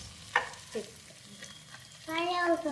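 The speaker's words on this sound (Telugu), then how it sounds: "అది ఫ్రై అవుతుంది ఫ్రెండ్స్" Fish frying in hot oil in a home kitchen, with a steady low sizzle broken by a few sharp stirring clatters, the crackle growing louder toward the end.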